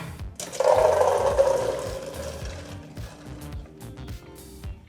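Excess cooking water is poured off boiled chickpeas, a strong splashing gush for about two seconds that tapers into a thinner trickle, with no talk.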